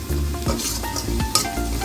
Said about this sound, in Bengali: পেঁয়াজ আর রসুন আর আদা ভালো করে ভেজে নিচ্ছি।